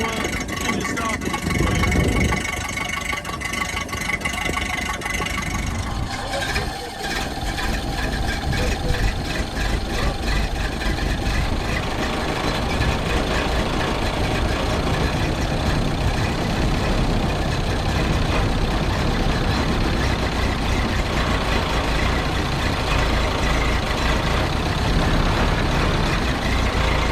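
A 1931 Ford Model AA 1½-ton truck engine idles steadily and close by after decades of sitting, its even mid-range rumble running throughout while someone talks over it.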